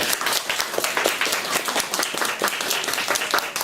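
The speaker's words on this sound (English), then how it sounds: "Let's give that orange belt a round of applause." Children and parents in a kung fu class clap for an orange belt award, a lively round of close, uneven hand claps with a few sharper individual slaps.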